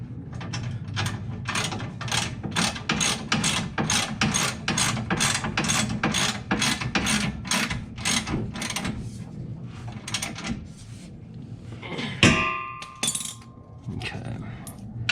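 Hand ratchet tightening a bumper bracket on a C2 Corvette, a long steady run of evenly spaced clicking strokes up close, followed by a metallic clatter and jangle near the end.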